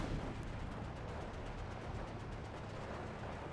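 Outdated MG15 machine guns fire in Steel Division 2, a steady dense rattle of gunfire mixed with distant battlefield rumble, held at a constant moderate level throughout.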